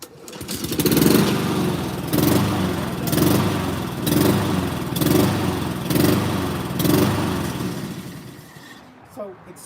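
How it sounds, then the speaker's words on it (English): A self-propelled lawn mower engine runs hot and surges, its loud droning note swelling and sagging in a steady rhythm of about six waves before cutting off near the end, with a voice talking faintly underneath. "I started running the lawnmower to get the oil nice and hot, and it started to surge."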